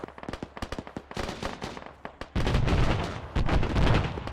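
Rapid gunfire crackles in a military video game set during platoon training, starting as quick separate shots and building into a dense, loud continuous volley of overlapping bursts, with no talk.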